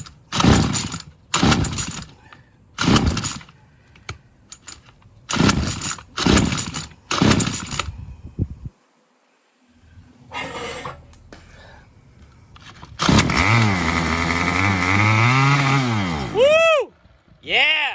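Murray Select MS 2560 gas engine, likely a string trimmer, gives several sharp pull-start bursts, then catches and runs with a loud steady roar that rises and falls with the throttle, with brief voices in the gaps.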